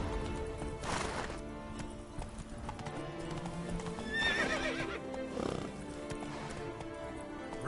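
Roach the horse from The Witcher 3 at a gallop, hooves drumming steadily while she lets out a clear whinny partway through over background game music.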